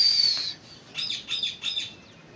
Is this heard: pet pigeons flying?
yes